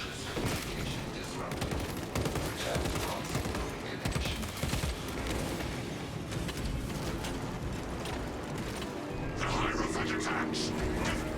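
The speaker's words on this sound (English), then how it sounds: "Let us fire at the Tyranids." Sustained gunfire aimed at Tyranid swarms in the video game Space Marine, a dense unbroken barrage of shots with a louder burst near the end, with a voice talking underneath.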